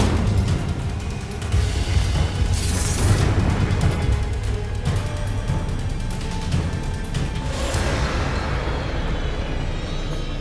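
A fire spell cast repeatedly in Hogwarts Legacy, heard as loud, dense blasts and crashing bursts layered over a continuous rumbling game soundscape.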